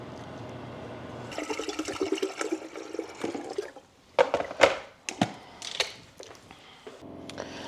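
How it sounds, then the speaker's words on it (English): A household refrigerator fills with water and makes an abnormal noise: a steady rushing hiss of running water, followed by louder gurgling, knocking surges and sputters, heard close in a quiet room. "That's the refrigerator that putting the water in, and it shouldn't be making that noise."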